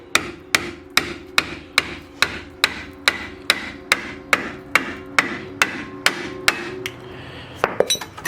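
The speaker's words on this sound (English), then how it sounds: "then we're gonna hammer this off" Repeated sharp metal hammer strikes knock off a brake part on a 2008 Lexus IS250, ringing out at a steady rhythm, about two per second, loud and close, with a few quicker blows at the end.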